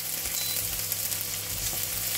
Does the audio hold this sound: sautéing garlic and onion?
yes